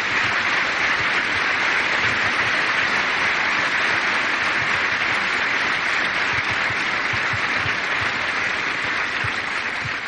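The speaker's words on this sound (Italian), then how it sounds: "Anche sui bambini diamo un applauso a queste famiglie." A large gathering at an outdoor papal Eucharist celebration gives missionary families and their children a long, steady round of applause, dense and even throughout with no speech over it.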